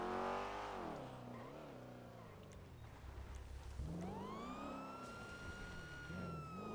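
A truck in GTA V revs and drives, its engine pitch rising and falling through gear changes, loud and close, with a siren-like wail sweeping upward midway.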